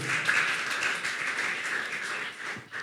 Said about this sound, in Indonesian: yang mengerti tepuk tangan untuk Tuhan